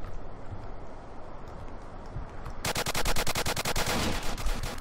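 Rapid automatic gunfire in the video game Apocalypse Rising breaks out after a quieter stretch, a steady run of sharp, loud shots continuing to the end.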